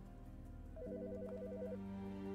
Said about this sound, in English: Answer the phone. The fucking phone.